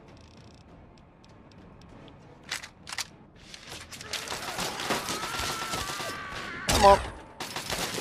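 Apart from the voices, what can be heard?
plasma rifle gunfire in the video game Fallout 3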